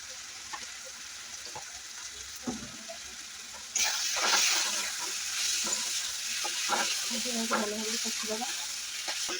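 Masala of turmeric, chili powder and dry red chili powder sizzles in hot oil for paneer tadka, a steady close frying hiss that grows louder midway, with occasional spoon scraping and stirring.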